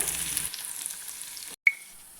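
Onion, mustard seeds and cumin fry in oil for a dal curry, giving a faint, quiet sizzle close by. It is cut off by a brief gap near the end before a short clink.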